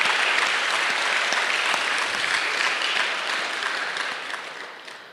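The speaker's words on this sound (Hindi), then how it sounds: "तालियों की गड़गड़ाहट करें।" Sustained applause from a large crowd at a blood donation event, dense and continuous clapping that holds steady and then gradually fades toward the end, with no talk over it.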